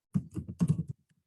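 A short burst of computer keyboard typing: about eight quick, close keystrokes in two clusters, then a couple of faint taps as it trails off.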